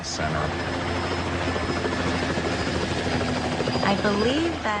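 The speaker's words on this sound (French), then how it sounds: "Je l'ai mise dans l'hélicoptère pour rejoindre l'hôpital." Helicopter carrying a critically ill patient to hospital, its rotor and engine making a steady, loud, close drone throughout, with people talking over the noise.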